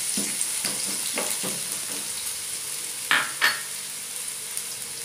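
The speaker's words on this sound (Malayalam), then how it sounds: "അപ്പം അതിനകത്തോട്ട് നമുക്ക് സവാള ഇട്ട് കൊടുക്കാം." Onions fry in a hot pan with a steady sizzle, while a utensil stirs them in a series of scraping strokes and two louder clanks near the middle.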